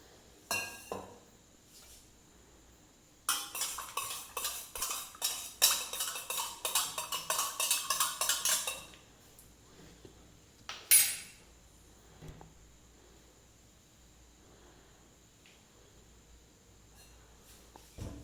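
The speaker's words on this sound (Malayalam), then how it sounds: "ഞാൻ സ്പൂൺ കൊണ്ടുവന്ന് ഇളക്കി യോജിപ്പിക്കുക" A metal spoon stirs black tea in a cup, giving a quick, steady run of close, bright clinks for several seconds, followed a little later by a single louder clink and then quiet.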